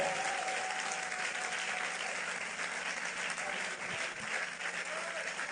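A church congregation claps and cheers in a sustained wave of dense applause, loud and continuous throughout.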